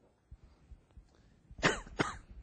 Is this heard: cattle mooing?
no